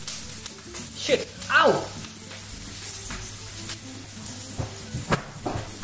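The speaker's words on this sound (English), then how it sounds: "throwing onion with water on hot boiling oil" Hot oil crackles and sizzles steadily as wet onion is thrown in, while a person yelps in pain and speaks over it.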